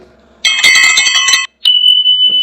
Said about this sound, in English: this bell effect will pop out